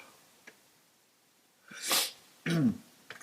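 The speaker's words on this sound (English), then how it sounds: "another sneeze there for you non-subscribers" A single sharp sneeze bursts out in a quiet room, preceded by a short intake of breath and followed by a brief vocal sound.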